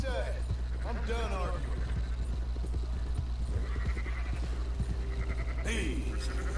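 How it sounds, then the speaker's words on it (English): Sheep bleat repeatedly in the open-world western Red Dead Redemption 2, with several wavering cries scattered over steady background game audio, hoofbeats and a low hum while voices talk. "These fucking sheep."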